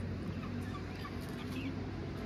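Poultry birds cluck softly in a pen, faint scattered calls over a constant low background rumble.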